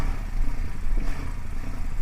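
A KTM 690 Rally Raid motorcycle engine under way, a loud continuous low rumble with wind roar and slight fluctuations in intensity.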